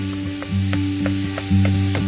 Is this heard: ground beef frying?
yes